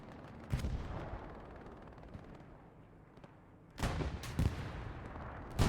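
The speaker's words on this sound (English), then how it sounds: "Where did that snipe come from?" Sharp gunshots in the Hell Let Loose shooter, including a sniper rifle shot, crack out as separate loud reports over a low battlefield background, with a cluster of shots near the end.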